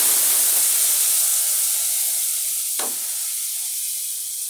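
Spices drop into hot oil and sizzle in a bright, steady hiss that fades slowly, with one short clink of a utensil partway through. Nobody speaks.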